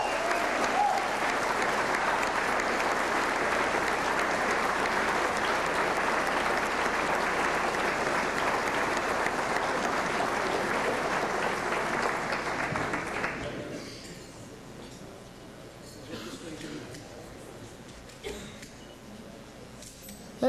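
An audience at a 1992 GM motorsports awards banquet claps warmly and steadily for about thirteen seconds before the applause quickly fades to quiet room noise and scattered clinks.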